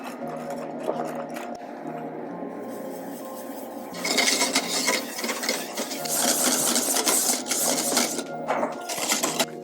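A hand mixer whirs while blending chocolate pastry cream for beignets, growing louder and more rattly midway as the beaters work against the bowl.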